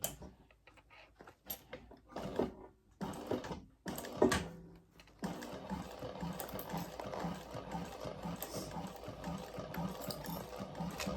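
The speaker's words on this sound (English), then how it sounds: "I'm gonna take this to our machine and we're gonna sew it according to pattern directions" Sewing machine sewing fabric from butter bags, a few scattered clicks and handling noises first, then a steady, moderate stitching hum up close for the rest.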